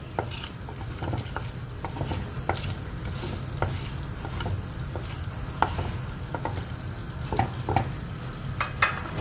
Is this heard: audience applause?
no